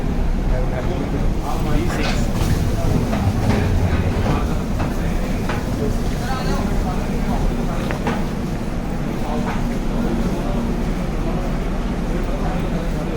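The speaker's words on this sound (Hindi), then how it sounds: "अब हम लोग अपनी ट्रेन के पास जा रहे हैं और यहाँ का जो स्टेशन है बहुत ही क्लीन है" Train standing at a clean railway station, a steady rumbling wash of rail noise and crowd murmur with faint clanks, while people talk over it throughout.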